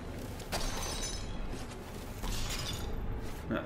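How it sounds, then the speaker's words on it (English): Glass shatters in No Man's Sky during a derelict freighter mission, a faint crash with a couple of brief breaking bursts over low steady background noise. "very nice in this game, because you hear the glass break"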